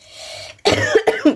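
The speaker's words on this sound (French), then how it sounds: "Alors des fois je peux éviter ma tousse, pardon, mais des fois je peux pas." After a quiet moment, a person coughs sharply two or three times in quick succession, close and fairly loud.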